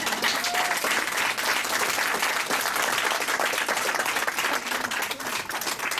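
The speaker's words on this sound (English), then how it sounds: "Why don't we give them another round of applause?" Crowd at a birthday roast breaks into sustained applause, dense overlapping claps at a steady level for the whole stretch.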